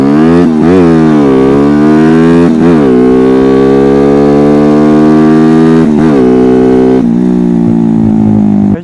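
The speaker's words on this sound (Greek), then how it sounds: "Στροφάρει πάρα πολύ ωραία. Νομίζω αυτό είναι που μου αρέσει τόσο πολύ σε αυτό το μηχανάκι." A GLX motorbike engine revving hard and close, loud throughout, with repeated rises and falls in pitch as the throttle is blipped and then held high.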